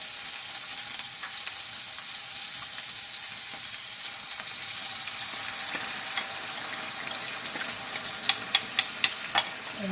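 Sauce hisses and sizzles steadily in a hot pan for pork with baby potatoes and green beans, a close, continuous frying crackle with a few sharp utensil clicks near the end.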